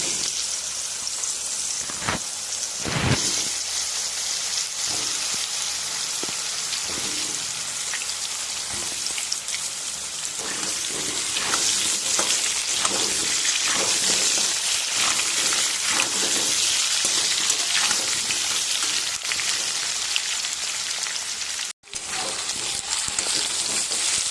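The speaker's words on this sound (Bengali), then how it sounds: "মাছ ভেজে নেওয়া তেলের মধ্যে আমি আলুগুলো ভেজে নেব।" Potatoes fry in oil left over from frying pomfret fish, making a continuous, close crackling sizzle with scattered pops and stirring, broken once by a brief silence near the end.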